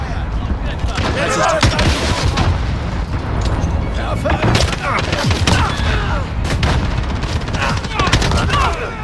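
An online shooter match brings a dense, loud barrage of gunfire and booming blasts, grenade explosions among them, under shouted in-game voice callouts throughout.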